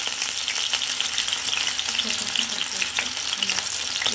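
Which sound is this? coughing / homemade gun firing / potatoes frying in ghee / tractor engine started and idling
potatoes frying in ghee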